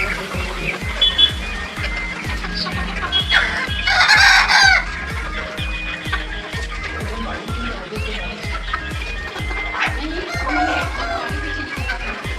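Chickens clucking continuously on a poultry farm with desi and broiler hens, with a rooster crowing loudly in the middle, close and busy, plus a faint steady ticking underneath.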